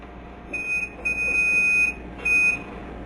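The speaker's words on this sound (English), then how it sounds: "Set the timer." A kitchen timer beeps three times in a row while cooking, with shrill electronic tones of uneven length over a steady background hiss.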